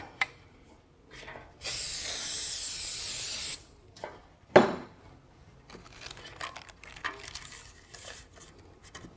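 A steady hiss of cooking spray into a cheesecake tin lasts about two seconds, followed by a metallic clink of the tin and light handling noises.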